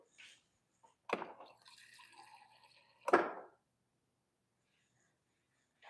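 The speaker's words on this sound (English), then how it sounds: "I'm going to get a 1/4 cup of cold water" A quarter cup of cold water added to pie crust dough made with Crisco, heard as two short splashing pours about two seconds apart, close and fairly quiet, with near silence around them.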